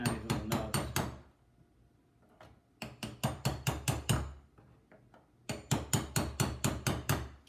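Metal hammer strikes on small nubs to tighten a nut inside a LiPo battery charge box, in three rapid bursts of sharp, evenly paced blows, each with a ringing metallic bite, separated by short quiet pauses.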